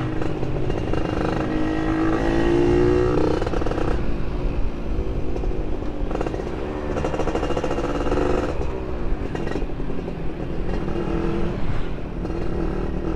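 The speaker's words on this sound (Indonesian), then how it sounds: "ketika digeber itu malah jadi agak merepet suaranya" Yamaha F1ZR two-stroke motorcycle fitted with an R&R racing exhaust, revved repeatedly up close, its crackling engine note rising and falling through several blips before settling back to a rough idle.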